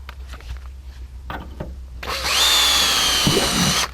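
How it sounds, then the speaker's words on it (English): A power drill bores a hole in fiberglass through a jig, preceded by a few light handling clicks, then a loud, close, continuous whine with grinding texture lasting nearly two seconds before stopping. "Drill the other hole."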